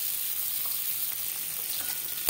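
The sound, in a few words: boiled eggs frying until reddish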